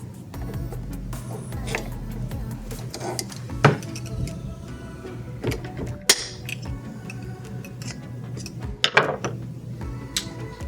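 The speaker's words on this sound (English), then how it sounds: "we're going to be able to put that snap ring back in" Metallic clicks, clinks and scrapes from working a snap ring into a Toyota Supra MKIII A70 power steering rack, with sharp isolated taps at irregular intervals over a low background hum.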